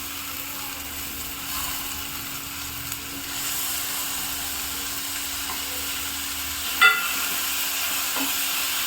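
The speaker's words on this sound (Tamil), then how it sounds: "தக்காளி குழைய வேகிற வரைக்கும் நம்ம வச்சு வதக்கி எடுத்தோம்னா சரியாக இருக்கும்" Soft, steady sizzling of chopped tomatoes cooking in a pan, with an occasional scrape of a spoon stirring, no voices.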